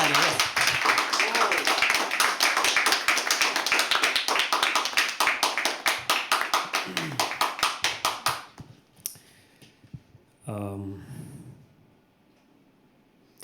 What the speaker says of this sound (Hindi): एक बार जोरदार तालियों से please show some love for हर्ष के लिए एक बार जोरदार तालियां.